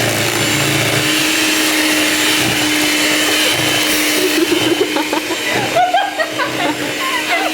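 An electric mixer beats batter with sugar, a loud continuous motor whir with a droning hum that stays steady, then grows rougher and more uneven near the end as voices talk over it.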